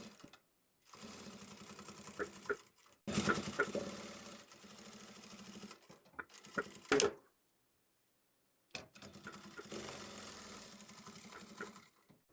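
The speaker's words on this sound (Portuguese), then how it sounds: "A gente vai agora passar uma costurinha aqui e uma costurinha aqui nessa lateral também." Sewing machine stitching the side seam of a lipstick pouch, close and steady, running in several bursts of rapid rhythmic whirring separated by short pauses and clicks.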